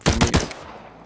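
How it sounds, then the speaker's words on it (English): A pistol gunshot effect built in Unreal MetaSounds fires three rapid, loud, close cracks in quick succession, then fades into a brief reverberant tail. "so now we have our pistol gunshot"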